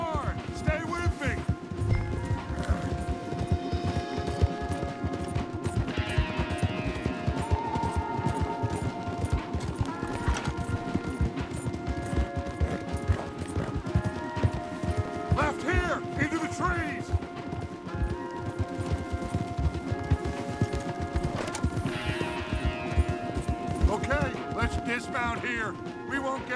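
Rhythmic hoofbeats of horses galloping steadily throughout in Red Dead Redemption 2, mixed with game music and occasional voices talking over the pounding clatter.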